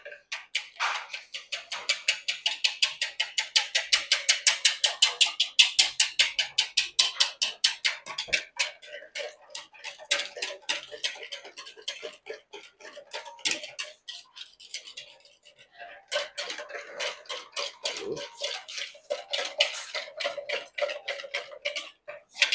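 Rapid, steady clicking of a whisk beating a batter of nutmeg, lemon zest and spices in a small bowl, close and continuous with brief pauses, for a Haitian kokiyòl recipe.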